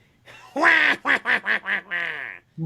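A voice imitates the Penguin's bird-like laugh, a loud, close run of quacking, duck-like bursts: one long squawk, then four short rhythmic pulses and a drawn-out final honk.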